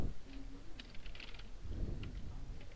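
A command being typed on a computer keyboard: a few soft, scattered keystrokes, close and quiet, with a faint low hum behind them and no speech.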